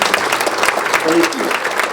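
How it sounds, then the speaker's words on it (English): Short burst of applause from diners at a chamber of commerce annual dinner honouring the board members, steady clapping with a brief voice rising over it. "And let's give them a round of applause as well."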